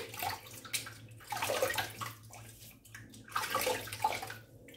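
Water splashing at a bathroom sink as a face is wetted before shaving with a Fatip Gentile Piccolo razor, with bursts of splashing in irregular waves under a steady low hum, fairly close.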